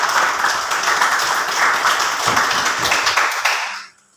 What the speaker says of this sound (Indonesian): Untuk itu maka saya meminta untuk memberikan aplaus kepada kita.